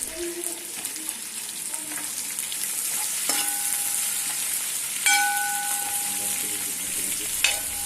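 Sliced onions fry in hot oil for a beef roast, giving a steady close sizzle with occasional stirring clinks and scrapes and no voices.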